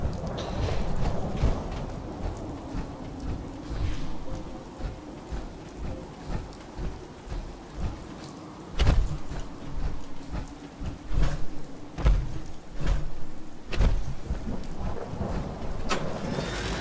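Steady rain patters across a night scene in Fallout 4 while rolling thunder and sharp cracks break through at intervals, full and close with no voices.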